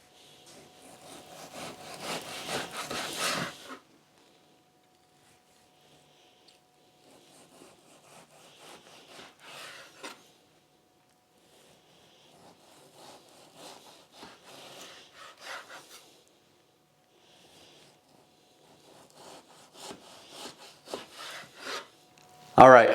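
A knife slices venison into thin jerky strips with soft, rasping strokes, one long stroke first and then quieter, intermittent cuts. The sound is close and nothing else is heard over it.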